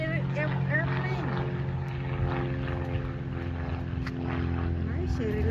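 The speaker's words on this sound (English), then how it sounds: "Small airplane." A small propeller airplane drones steadily overhead above South Holston Lake, a continuous engine hum with a buzzing tone throughout, while people talk nearby.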